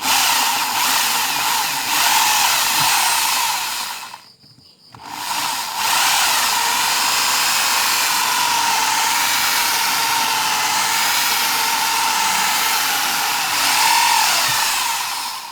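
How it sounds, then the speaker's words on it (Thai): A loud, steady electric drill fitted with a 3.5 mm bit whines continuously, briefly cutting out for about a second before running on at a constant pitch. "ใส่ดอกสว่านนี่นะครับ ดอกสว่านสามจุดห้ามิลครับ"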